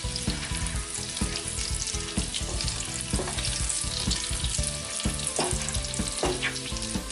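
Chopped garlic frying in hot oil in a pan after chicken has been fried, a steady loud sizzle with stirring scrapes throughout, close up and continuous with no talk.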